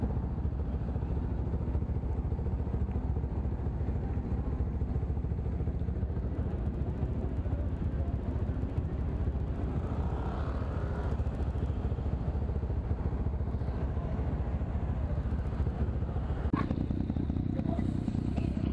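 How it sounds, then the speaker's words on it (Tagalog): Many motorcycles idle and pass at a night gathering on Moto Street, BGC Taguig, a dense continuous engine drone with clatter, fairly distant and steady throughout. "Nagkalat yung mga motor dito sa high street dito lang saan, sa Moto Street."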